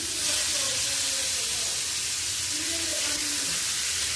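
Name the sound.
fish frying in a pan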